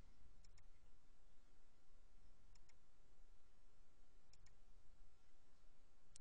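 Soft computer mouse clicks, faint and close, arriving as quick double clicks a few seconds apart over a quiet room hum.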